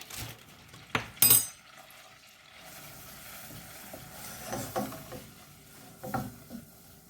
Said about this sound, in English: And mix that in. Keep it moving.